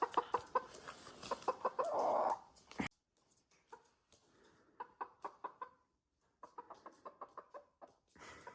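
A hen clucks in quick rhythmic bursts close by, with a loud squawking flurry early on, then a pause and further runs of steady clucks in a quiet indoor setting.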